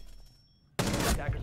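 A shotgun blast in a video game breaks a quiet moment with a single sudden loud boom that rings on with a sustained roar.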